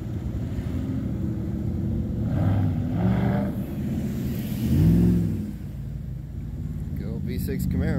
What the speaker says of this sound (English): Go V6 Camaro. Just solid. That sounds decent.